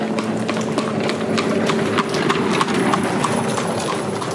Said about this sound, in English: Imagine walking past horses travelling along a cobbled road